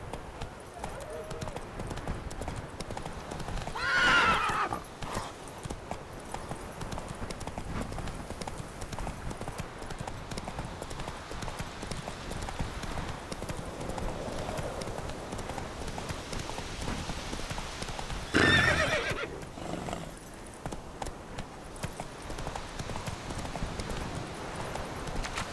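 Roach, a horse in The Witcher 3, gallops in a steady stream of hoofbeats under game ambience, with a couple of louder bursts and a voice speaking over it.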